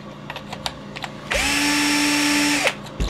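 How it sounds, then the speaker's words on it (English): An electric drill spins a cutter trimming rifle brass cases, a steady high whine of about one and a half seconds rising after soft clicks and ending abruptly, close and loud with no voices. "you'll feel that the cutter or the drill starts to spin freely"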